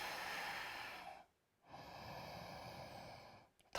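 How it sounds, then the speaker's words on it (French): Ujjayi breathing during a vinyasa yoga session: a slow, hissing ocean-like exhale through the throat, a brief quiet pause, then another long breath, close and soft with no speech. "respiration Ujjayi"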